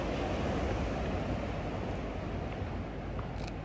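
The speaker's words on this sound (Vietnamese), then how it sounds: "Nghe tiếng sóng biển không?" Broadband wash of sea waves on the beach at Vung Tau, Vietnam, a steady rushing surf with a touch of wind, moderately loud and continuous, with no speech.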